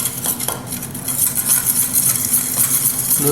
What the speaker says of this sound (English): let's go ahead and whisk that up